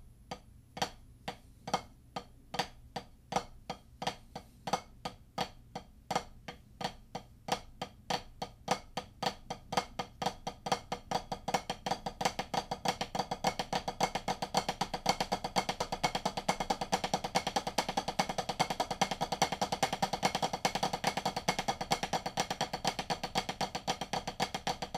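Flam taps are played drop-drop-catch on a drum practice pad, starting as sparse, crisp taps and building into a fast, continuous, even stream of strokes, with no talking.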